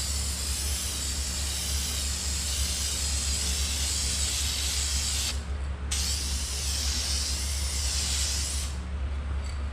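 Aerosol spray paint hissing steadily onto a Mitsubishi Lancer Evo X gauge cluster surround, one continuous close, loud spray with two brief pauses between passes.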